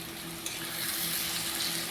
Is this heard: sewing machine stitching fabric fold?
no